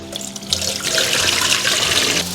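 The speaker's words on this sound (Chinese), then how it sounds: "泡好的土豆丝我们多淘洗2遍，这样把表面的淀粉洗掉" Soaked potato shreds are rinsed in water, with steady splashing and running water close by that swells after a soft start and carries on without talk.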